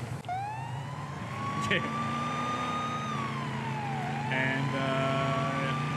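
A police car siren in the Police Sim video game wails in long rising and falling sweeps, loud and continuous over an engine hum, with a brief spoken interjection partway through.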